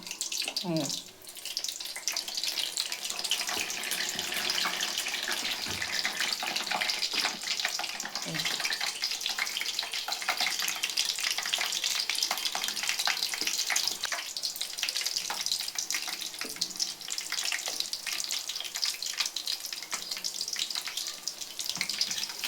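Mirchi bajji, battered green chillies, frying in hot oil at home, a dense steady sizzling hiss that holds loud and constant throughout with a few faint clinks.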